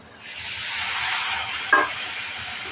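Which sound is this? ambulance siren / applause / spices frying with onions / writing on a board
spices frying with onions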